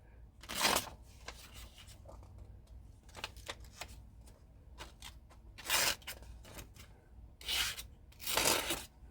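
Cheap stainless souvenir knife ripping through notebook paper: several rough tearing bursts, a few longer and louder, spread irregularly over a quiet background at close range.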